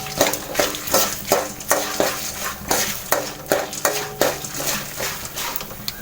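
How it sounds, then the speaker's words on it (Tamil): A utensil scrapes and stirs ground spice powder in hot oil in a pan while making puliyodharai, with a rhythmic series of clattering strokes against the metal and a faint sizzle underneath. "போட்டு நல்லா கிண்டிக்கோங்க எண்ணெயிலேயே."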